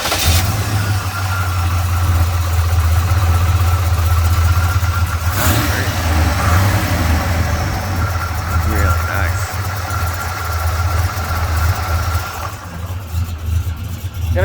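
A 1979 Chevrolet K20 Silverado 4x4 engine idles with a lumpy, rumbling tone, heard up close as a steady low drone throughout with a few mechanical clicks and faint background sounds.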